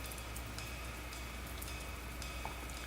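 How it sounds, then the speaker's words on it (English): Steady, dense rain pours in the Sunny Cafe video game, a constant hiss of drops with faint scattered patters running throughout. "signaling the coming of heavy torrents of rain"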